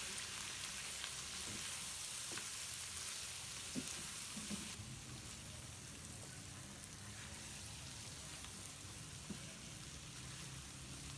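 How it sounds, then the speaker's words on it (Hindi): Beef frying with spices and Kashmiri chili in a handi, a steady close sizzle with occasional stirring scrapes and no talk. "इन मसालों के साथ इसकी बुनाई होगी"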